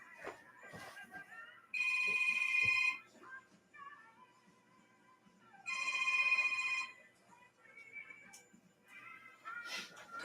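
A mobile phone rings in a home kitchen while a chocolate cake is being made. Two clear bursts of ringing are separated by a pause, with faint background noise and light movement between them.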